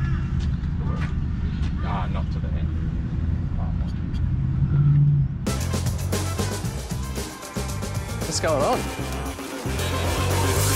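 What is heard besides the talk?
cars hooning around a carpark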